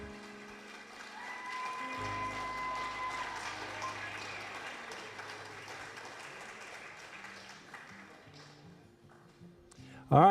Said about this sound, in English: Big round of applause for the two of them.